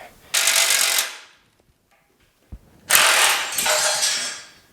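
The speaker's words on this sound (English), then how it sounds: "I hope my spring compressor's got enough thread so that spring doesn't shoot out of there." Spring compressor being worked on a front coil spring of a GTO during suspension teardown: two long bursts of rapid ratcheting or air-impact whirring separated by a quiet gap and a single sharp knock, fairly close and with no talk.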